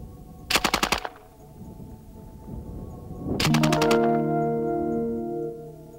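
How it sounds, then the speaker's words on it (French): C9 light machine gun fires two short automatic bursts of rapid, loud, close shots, each followed by a ringing echo and rumbling tail that dies away. "La C9 maintient un tir continu tant que la détente est retenue vers l'arrière."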